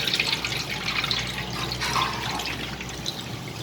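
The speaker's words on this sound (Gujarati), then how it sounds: "હવે આના પર આપણે ઠંડુ પાણી રેડીશું" Cold water streams from a tap over boiled pasta in a kitchen sink, a continuous splashing, gurgling pour that stays close and steady throughout.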